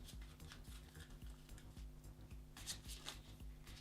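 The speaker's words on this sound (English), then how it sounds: "Should I give those a celebratory and initial shuffle, shall we?" Playing cards riffle and patter in quick bursts, a soft, close rustling shuffle with a faint low hum underneath.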